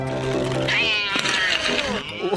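A cartoon cat from the animated series Mummies Alive lets out a long, loud, wavering meow that slides up and down in pitch, close and prominent over a faint background.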